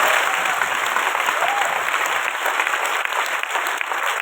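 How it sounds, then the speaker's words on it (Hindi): Loud, sustained applause from an audience at a Modicare business event in Jaipur, a dense, even wash of clapping that holds steady throughout with no voices over it. "एक बार जोरदार ताली आप लोगों के लिए।"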